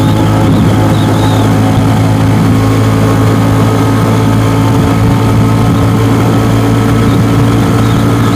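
A Venom X22R motorcycle with new sprockets cruises in fourth gear on a 45 mph road, its engine a loud, steady drone that holds at constant speed throughout, mixed with wind rush.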